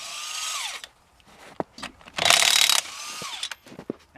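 An impact gun with a 21 socket loosening a nut, giving short whirring bursts followed by a loud rattling hammering burst, close and sharp in a quiet setting.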